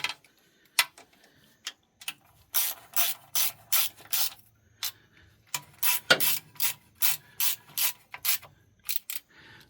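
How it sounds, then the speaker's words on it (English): A 1/4-inch drive ratchet tightens the transmission pan bolts on a Dodge Ram 3500 dually, giving close, crisp clicking bursts in a quick rhythm, broken by short pauses. "I've went around the pan here about 3 times with this the 1/4" drive ratchet in the socket."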